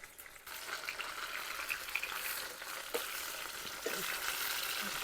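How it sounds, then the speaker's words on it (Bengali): Prawn muitha dumplings deep-frying in hot oil until reddish, giving a continuous, moderately loud crackling sizzle with a few sharper pops and stirring noises. "একটু লাল লাল করে ভেজে নিতে হবে"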